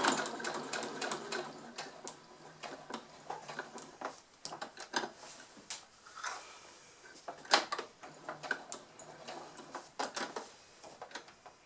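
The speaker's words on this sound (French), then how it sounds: "Et je repars pour ma couture." A sewing machine stitches fabric for a beginner's multi-purpose pouch in quick, uneven runs of mechanical clatter, pausing briefly between bursts, close and fairly quiet.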